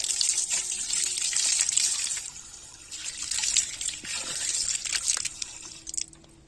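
A drinking water tap running in Cyprus, a steady gushing stream splashing close by, faltering and thinning with a few drips before cutting off near the end.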